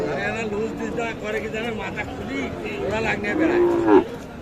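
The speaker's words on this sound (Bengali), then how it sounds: "এই পাশে আরও একটা দেখছি বেশ সুন্দর সাইজের শাহিওয়াল সার বাছুর" A Sahiwal bull calf, about six to seven months old and for sale at a cattle market, moos loudly and close in drawn-out calls that swell near the end, while people talk around it.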